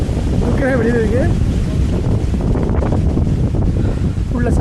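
Strong wind roars and buffets steadily across a hilltop temple at Mekkarai in Tenkasi district, a continuous loud rush with a brief wavering voice rising over it.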